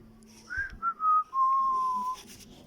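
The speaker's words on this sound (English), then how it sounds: "And he went off, whistling." A person whistles a short tune, a few rising notes followed by one long held tone, clear and close against quiet background hum.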